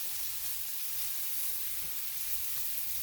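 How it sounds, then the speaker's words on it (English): Onions with a pinch of salt fry in a pan, giving a soft, steady sizzle and hiss that stays faint and even throughout, with no voices. "With the salt on there, it'll give off some liquid enough to fry these up."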